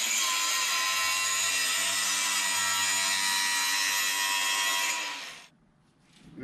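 Power tool cutting down a car exhaust pipe after the muffler is removed, a loud, bright, steady grinding rasp that runs unbroken for about five seconds and then winds down quickly.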